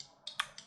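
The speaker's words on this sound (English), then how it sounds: "Space bar, space bar." A few quick clicky keystrokes on a computer keyboard, including the space bar, close and light, three taps in well under a second.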